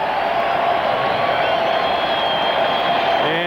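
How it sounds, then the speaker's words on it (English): Crowd cheering at a 1991 New York Mets home game against the Montreal Expos in the bottom of the ninth inning. A loud, sustained roar of voices and applause fills the whole stretch, with a faint voice underneath. "the crowd's back into this game. Crowd is here, and they're all for this"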